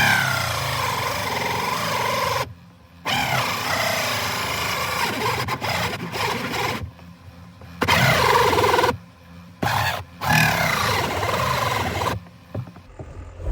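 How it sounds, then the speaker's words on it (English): Whirring 12-volt cordless drill with a nearly dead battery running in bursts, stopping and restarting several times with short silent gaps, close and fairly loud. "I'm actually using a 12-volt drill for this."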